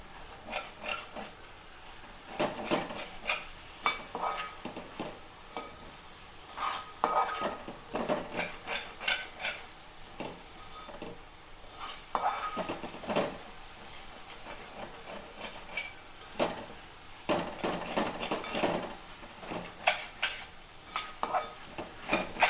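Tomatoes and curry leaves fry in a pan with onions, soft sizzling under repeated scraping stirs of a spoon against the pan, irregular bursts close by at moderate volume.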